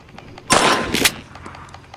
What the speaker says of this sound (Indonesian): Udah bisa nembak nih kita di sini